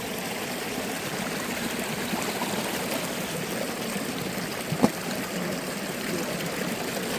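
Steady rushing water of the Kaplyvets waterfall in Yaremche flowing into a river, continuous, a broad even wash of sound with one brief knock midway.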